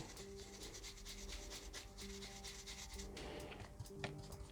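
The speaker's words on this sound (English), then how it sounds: "I'm using a combination of top-down dry brushing to hit the raised lips and buffing too." A stiff brush scrubs and buffs dry paint onto a modular dungeon scenery model, a faint, steady rasping rub that repeats in quick strokes.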